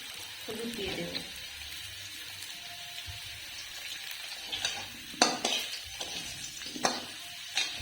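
Potatoes frying in oil in a pan give a low steady sizzle, while a spoon scrapes and clinks against the pan in several sharp bursts of stirring.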